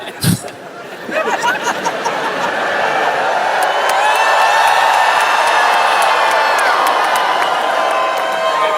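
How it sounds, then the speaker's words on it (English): A large Winter Olympics crowd whoops and cheers for the U.S. team, a sustained roar of many voices with shouts and whistles rising after a brief opening burst and holding steady. "They wooed for the people from the U.S."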